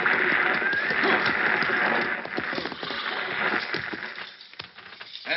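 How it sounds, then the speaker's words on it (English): A six-horse stagecoach hitch approaches in a radio drama sound effect: clattering hooves and a whinny over rolling wheel noise, loud at first, then easing and more sparse. "Driving a 6-horse hitch ought to keep him awake."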